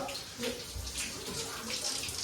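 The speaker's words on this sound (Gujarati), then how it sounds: "નવોળીમાં પાણી કેવું જાય છે જુઓ કેટલો વરસાદ છે પાણી જાય છે" Steady rushing and gurgling of rainwater running continuously through a drain during heavy rain, fairly close, with a broad noisy hiss throughout and no voices.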